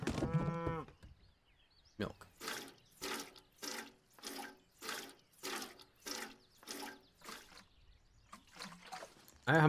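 A cow in the Heat Homestead farming video game moos repeatedly while being milked, around eight evenly spaced lowing calls with watery splashing beneath, close and clear after a brief opening sound.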